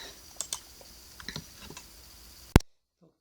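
Computer keys tapped in a few scattered light clicks, ending in one sharp, louder keypress followed by silence.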